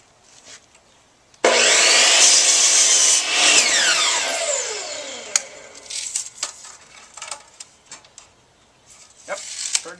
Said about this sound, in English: we're ready to cut the cedar slats at 32 inches